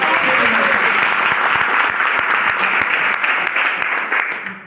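An audience at a coaching centre claps loudly for a teacher, with a dense, sustained burst of applause that fades slightly near the end.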